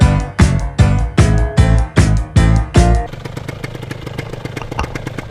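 Water-cooled Triumph Bonneville T100 motorcycle engine revved in a series of loud, sharp blips, then settling into a steady, lumpy idle close by.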